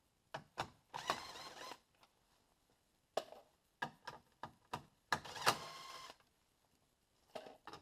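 Ratcheting clicks and short whirring bursts come from 10 mm grille bolts being removed on a 2015 GMC Sierra, in close, intermittent runs separated by quiet pauses, with no talk.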